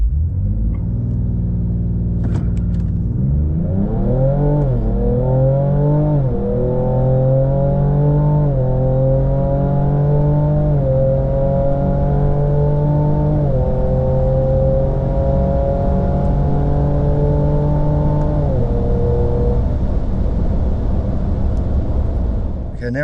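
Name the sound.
Ford Ranger Raptor accelerating with exhaust in Baja mode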